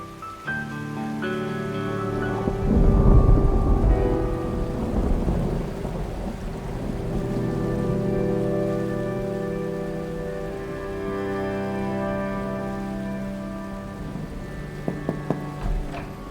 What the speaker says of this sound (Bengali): বৃষ্টি তো কমছে না স্যার